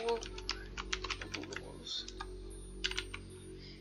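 Quick clattering keystrokes on a PC keyboard while typing into a game chat, irregular bursts of clicks with a short gap, under a low background hum and a brief spoken word.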